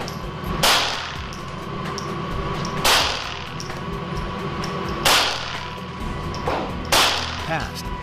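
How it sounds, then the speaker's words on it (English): Five full metal jacket .22 Long Rifle rounds fired at glass coated with 15 mil window film in a ballistic test, heard as four or five sharp, loud cracks spaced about two seconds apart over steady background noise. "5 full metal jacket 22 long rifle rounds"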